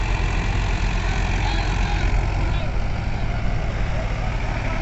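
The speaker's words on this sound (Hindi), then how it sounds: "अब होंगे ट्रैक्टर चालू।" A Mahindra 575 tractor engine runs at a steady idle during a field demo, a loud, constant low rumble with no change in pace throughout.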